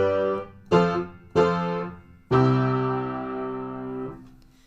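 Piano chords struck firmly, a few short ones then a long sustained chord that rings out fully and fades, rich and resonant, no voices.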